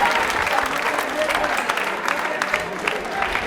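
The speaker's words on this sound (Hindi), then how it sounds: "2018, तालियां हो जाए।" Studio audience on a televised quiz show applauds steadily and loudly after a correct answer, a dense continuous wash of many hands clapping close by for the whole stretch.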